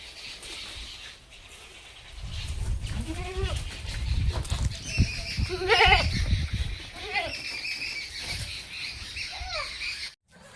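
A light golden Malabari goat with two kids bleats several times in short wavering calls, some loud and close, while a person talks over parts of it.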